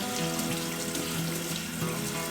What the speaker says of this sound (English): just give them a little bit of a rinse out